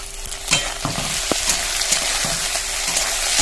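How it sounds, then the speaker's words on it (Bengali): Cut eggplant pieces going into a pan of lightly browned frying spices for an old Bengali vegetable recipe, a strong steady sizzle with a few sharp utensil knocks and stirring scrapes up close. "এবার এর মধ্যে কেটে রাখা বেগুনগুলো দিয়ে দেবো"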